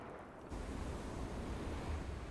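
Ocean waves churn in a lagoon, a steady broadband rush of surf with wind noise on the microphone, swelling in after a quieter opening.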